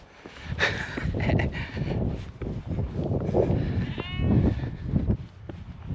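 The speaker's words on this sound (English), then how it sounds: "There we are, some sheep." Sheep bleat on the fells of Helvellyn, several wavering calls at close to moderate distance mixed with wind and outdoor rustle.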